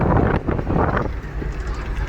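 Cold night wind blowing by the sea buffets the microphone in a steady, loud rumble with gusty swells, and no voices are heard.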